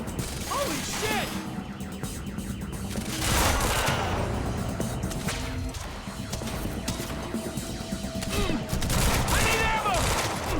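Rapid video game gunfire from Quantum Break crackles in dense mechanical bursts alongside ratcheting weapon sounds, with a player shouting excitedly over the action.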